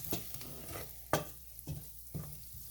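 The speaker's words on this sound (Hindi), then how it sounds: "हल्की आंच में मैंने प्याज किया है" Onions and cauliflower stir-fried bhuna-style with spices on a low flame: soft steady sizzling with rhythmic spoon scrapes and stirs in the pan, close and quiet.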